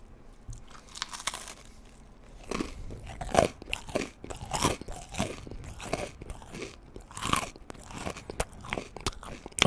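Close, crisp crunching of food being chewed, a run of irregular bites and grinding crunches that grow louder and denser midway, with no talking.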